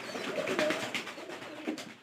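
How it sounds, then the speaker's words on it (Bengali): A single heavy-set pigeon of a stocky breed coos softly nearby in a short, low, continuous murmur, with no talking. "পায়রাটাতে একটু দেখার চেষ্টা করেন"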